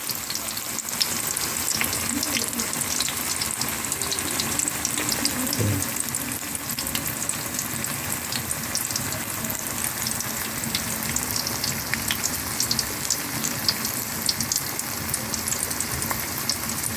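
Tofu (tokwa) fries steadily in a pan with a dense, even sizzle and crackle that runs unbroken throughout, close and fairly loud with no voices.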